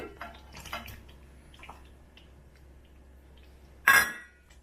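Eggs dropped into simmering egg kurma in a pan, with light clinks of utensils and quiet cooking noise, then one loud, brief splashing burst near the end.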